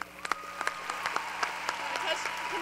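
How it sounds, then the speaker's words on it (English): Scattered claps from an audience at a university convocation, a few sharp hand claps growing into steady applause, with some talking underneath. "Give them a round of applause, please."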